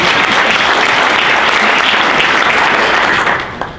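Dense, loud applause from a crowd at a health technology launch event, sustained evenly for over three seconds before tapering off at the end.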